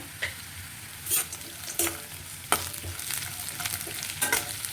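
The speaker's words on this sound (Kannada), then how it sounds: "ಹುರಿದು ಇಟ್ಕೊಂಡಿರೋಂಥ ಕಡಲೆ ಬೀಜ ಆ್ಯಡ್ ಮಾಡೋಣ" Roasted peanuts are stirred into frying raw totapuri mango rice in a pan, giving a steady sizzle broken by repeated scraping spatula strokes, close up, with no voices.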